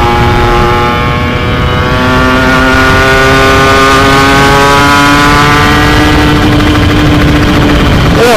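A loud two-stroke Kawasaki Ninja engine, stock and unported, with a PWK 33 carburetor, revs steadily, its pitch climbing gradually and holding high, close and continuous with no talking.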